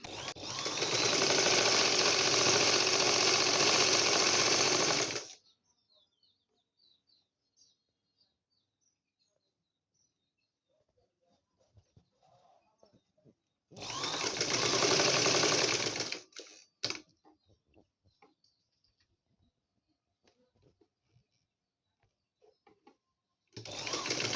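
A sewing machine stitches ribbon onto baby frock fabric in loud, steady bursts of about five seconds and two seconds, with a final short start, and near silence between runs.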